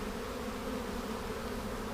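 Honey bees from an opened overwintered colony hum in a dense, steady buzzing drone, close and continuous, with no voices.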